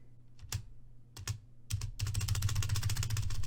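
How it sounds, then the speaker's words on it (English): A computer keyboard is struck with a few scattered taps, then erupts into rapid, continuous mashing of keys, close and crisp with no talk. "I'm spamming the keyboard and it's just not playing."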